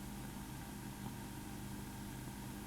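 A Caterpillar D7 tractor and bulldozer engine idles with a steady, low, rumbling drone in rocky timberland in Pike National Forest, heard faintly and evenly throughout with no voices.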